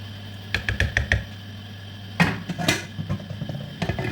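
Black soup with banga being stirred in a pot: a quick run of knocking taps of a spoon against the pot, then a louder scrape and clatter, followed by softer scattered knocks over a low steady hum.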